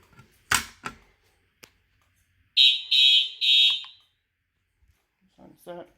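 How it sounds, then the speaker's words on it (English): A Simplex fire alarm is set off during a system test and sounds in three loud, even tonal blasts, with short bursts of clatter and handling noise before and after. "I'll do an alarm."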